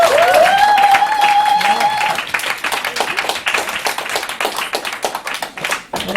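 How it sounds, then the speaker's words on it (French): Bar audience at a Montreal poetry slam breaks into lively clapping after a voice trails off, applause loud and close, then thinning into scattered claps. "on s'applaudit"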